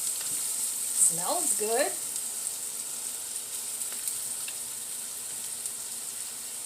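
Food sautéing in a pan on a home stovetop, a steady close sizzle and hiss that runs the whole time, with a brief spoken remark near the start.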